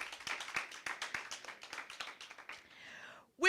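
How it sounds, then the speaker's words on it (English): Scattered, thin clapping from a small audience at a secondary-school debate competition, a few distinct hand claps fading out over a few seconds before a voice starts at the end. "A round of applause for both of our teams."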